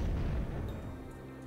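A muffled explosion in the video game American McGee's Alice leaves a deep, rumbling boom that fades away. It is faint and low, heard alone.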